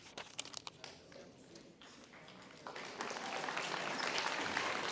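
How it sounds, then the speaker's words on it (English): Audience applause at an award ceremony, starting as scattered claps and swelling into steady, dense clapping from a crowd in a hall. "Applause."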